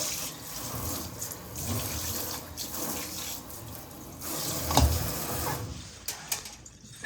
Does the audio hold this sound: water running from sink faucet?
yes